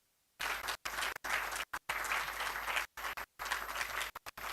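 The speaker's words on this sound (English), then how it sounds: "A huge round of applause" Applause at an online regional conference of meditation leaders begins after a short silence, a broadband clapping wash repeatedly cut off by abrupt dropouts, fairly quiet overall.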